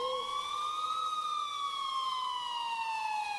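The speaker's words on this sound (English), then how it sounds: "until I finally heard sirens in the distance." Police sirens wail in the distance, a steady rising-and-falling tone that holds throughout at a moderate, far-off level with no other sounds over it.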